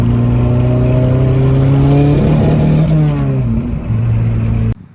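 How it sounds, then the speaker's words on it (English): Turbocharged drift car in high boost, with its engine droning loudly and steadily, then stumbling and cutting out briefly as if bouncing off a limiter, recovering before an abrupt stop. "So as you can see, it's almost like I'm hitting a limiter."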